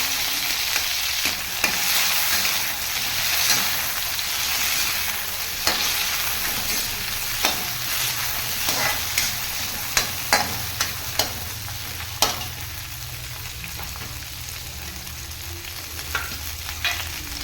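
Tomatoes fry in a pan for a Tamil leaf chutney with coconut and chillies, a steady loud sizzle throughout, broken by sharp scraping clicks of a spatula stirring at irregular intervals.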